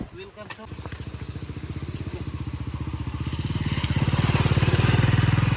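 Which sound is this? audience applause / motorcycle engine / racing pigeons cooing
motorcycle engine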